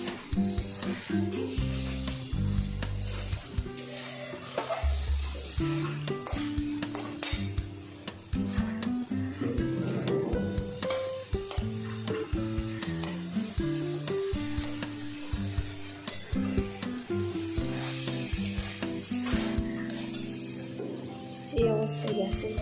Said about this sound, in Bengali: দেখুন আমি নেড়েছে ভালো করে ভেজে দিচ্ছি